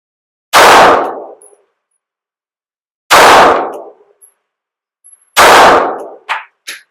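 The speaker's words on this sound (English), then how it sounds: "See how she shoots." Three loud, sharp pistol shots from a PSA Micro Dagger fired at a target, spaced a few seconds apart, each with a brief ringing decay, the last followed by a few quick metallic clinks.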